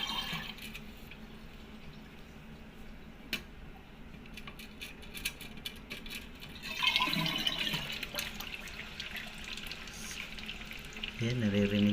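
A toilet tank refills with water after its float switch is cleaned: a low background hum gives way midway to a louder rushing, hissing flow of water that continues steadily, with a brief clunk near the end.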